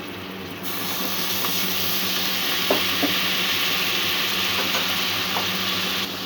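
Ginger paste and spices frying in a pan for a stuffed pointed gourd curry, with water just added, giving a steady loud hiss and sizzle throughout, with a few faint scraping stirs and no talk.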